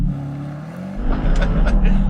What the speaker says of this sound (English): Left foot on the brake, floor of the throttle, hold the revs, and now I'm going to release the brake